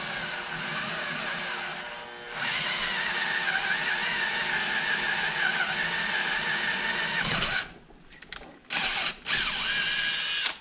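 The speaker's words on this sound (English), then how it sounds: "Good thing I have a 1/2 inch size drill." A 1/2 inch drill whines loudly and continuously while boring a drain plug hole in a Muncie 4-speed transmission case, with a short pause near the start, then stopping and restarting in brief bursts toward the end.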